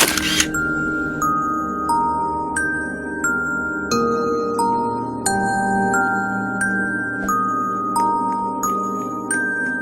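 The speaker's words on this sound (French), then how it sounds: "je te prends une petite photo" Video game camera shutter clicks repeatedly as photos are taken, a steady series of crisp electronic snaps with bright chiming tones, loud and without speech.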